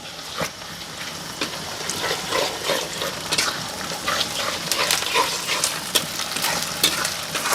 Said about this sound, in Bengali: আদা রসুন বাটা একসাথে বেটে নিয়েছি এটা দিয়ে দিলাম